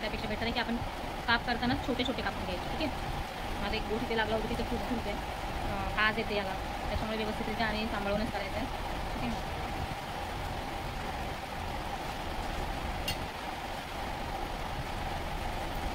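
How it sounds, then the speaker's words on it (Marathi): Heavy rain drums steadily on metal roof sheets, a dense, constant wash over a kitchen while someone speaks beneath it, chopping leaves for a rainy-season vegetable dish. "कारण की पाऊस भरपूर जोराने येते. तर पत्र्यांवरती पण आवाज त्याचा जास्त जोराने पडतो."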